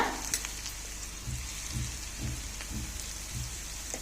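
Fenugreek leaves fry in a pan with a soft, steady crackling sizzle, faint and continuous, broken by a few low dull knocks and no speech.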